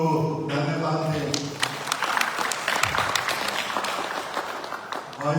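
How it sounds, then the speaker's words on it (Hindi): An audience at a Ram Katha gathering breaks into applause after a short stretch of talk, a dense patter of many hands clapping that holds steady to the end. "तो हम चले तालियों से उनको धन्यवाद दें।"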